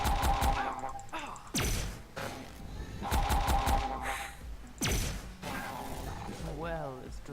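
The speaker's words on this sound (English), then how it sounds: "Use my laser rifle here." A laser rifle fires in a video game, with two sharp, loud bursts about three seconds apart standing out over busy game effects and chimes.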